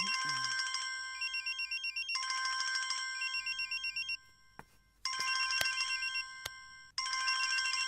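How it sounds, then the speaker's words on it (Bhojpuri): A phone rings with bursts of electronic ringtone, several repeated trilling phrases separated by short gaps, fairly loud and close in an otherwise quiet room, with a few sharp knocks in between. "अरे ई तो कोनो लइकियन के फोन बा।"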